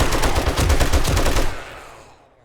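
Rapid automatic gunfire in a video game boss fight, a loud sustained burst of closely spaced shots for about a second and a half that then tails off into fading echo, with no talking.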